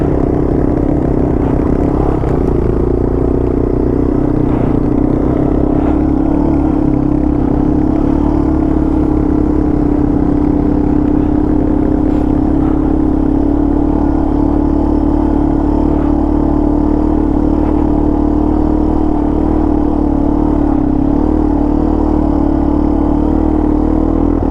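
A Yamaha TW200 motorcycle engine runs steadily with a continuous loud drone and clatter, heard up close for the whole stretch with no real change in pitch.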